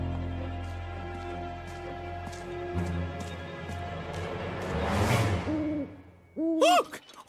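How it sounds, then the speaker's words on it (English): An owl hoots in a cartoon scene, tonal calls rising near the end after a swelling whoosh and layered music-like tones; the hoots are short, clear and fairly loud, with no voices over them. "No, that's just an owl, Lofty."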